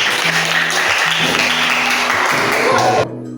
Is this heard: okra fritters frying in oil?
no